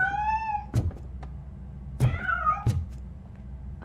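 A cat meows in RoboCop: Rogue City, one drawn-out call followed by another rising meow, set among sharp thuds and knocks, close and clear with no talk.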